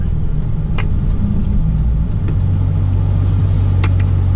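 Deep, steady V8 exhaust rumble from a Dodge Challenger R/T with the 392 engine, idling continuously and fairly loud close by, with no talk over it.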